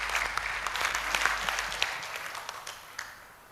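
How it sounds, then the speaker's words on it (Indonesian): About two hundred village heads from across Malang Raya are applauded at a smart-village outreach event, a broad crowd applause swelling then gradually fading, with a low hum underneath at first. "Tepuk tangan untuk Bapak Ibu Kepala Desa."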